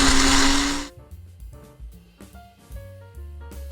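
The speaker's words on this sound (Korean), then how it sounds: "믹서기에 갈겠습니다." A kitchen blender grinds basil, garlic, pine nuts, olive oil and parmesan into pesto, a loud steady whirring roar for about a second that then cuts off, leaving quieter clattering and handling noises.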